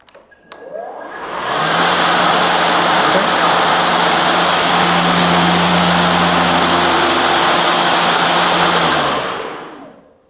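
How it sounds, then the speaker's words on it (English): EGO LM2244SP-2 dual-battery 22-inch lawn mower motor on its lower eco setting, spinning up after a click into a steady loud whirring hum indoors, then winding down. "let's go ahead and put it on eco, which is the lower setting for the motor, and do just a little test in here, see what it sounds like"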